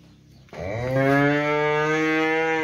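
A Simmental cow lets out one long, loud, close moo that starts abruptly and swells into a sustained, steady bellow lasting about two seconds.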